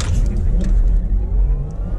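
A Porsche Taycan Turbo S Cross Turismo launches under launch control, giving a loud, close electric drive whine that climbs steadily in pitch over road and tire rumble.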